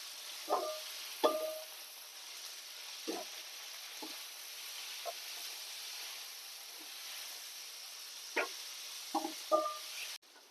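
Onion and gravy fry in a pan for egg biryani, a quiet steady sizzle broken by a few short clattery stirs and scrapes, with no voices.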